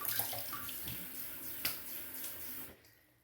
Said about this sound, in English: let me just rinse up with some fresh cold water.